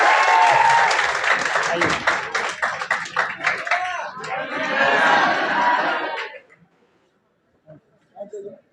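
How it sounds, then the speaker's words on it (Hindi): Loud, dense applause from a sizable audience, sustained for several seconds before cutting off, followed by a few faint sounds. "जोरदार तालियों से स्वागत करें।"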